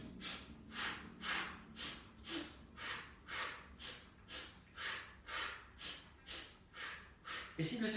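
Quick, regular nasal sniffs repeat in a steady pulse of about a dozen breaths during a beginner Pilates breathing exercise, near and fairly soft, with no talking over them.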